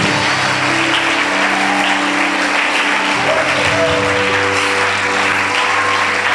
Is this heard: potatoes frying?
no